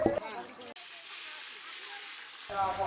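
Loud, steady hiss of potatoes frying in a pan fills the middle of the clip, with a voice talking briefly before and after it.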